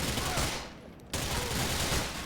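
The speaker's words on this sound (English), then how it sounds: "there's gunfire over here still" Gunfire in the video game Grand Theft Auto IV, a dense, loud burst of shots that briefly drops away, then resumes as a sustained crackling fusillade.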